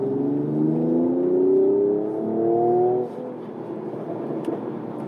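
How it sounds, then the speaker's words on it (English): A Mercedes-AMG CLS 53 4Matic+ exhaust revs up loudly and close by in rising, sustained surges that hold for about three seconds, then drops back to a quieter idle-like rumble. "Hear that exhaust?"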